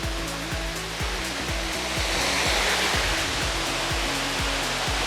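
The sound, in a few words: waterfall in Royal Belum forest, Malaysia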